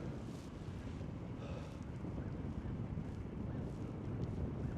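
Headwind gusts buffet the microphone while cycling uphill on the Paint Creek Rail Trail, a steady close low roar with no talk.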